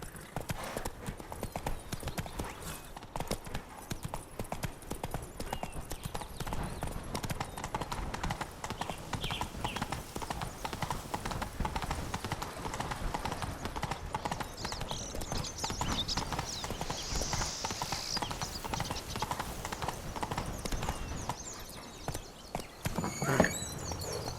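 Horse hooves clip-clop in a steady, continuous rhythm while riding through The Witcher 3: Blood and Wine, close and even throughout, with faint ambient sound underneath.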